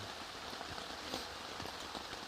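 Heavy rain drums steadily on a tent, a dense continuous patter with scattered louder drops, no voices.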